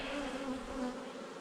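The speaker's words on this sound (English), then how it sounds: "make sure that there's bees coming and going in and out of the entrance" Honey bees fly in and out of the entrance of a newly installed hive, a steady close buzzing drone with several overlapping wingbeat tones and no voices.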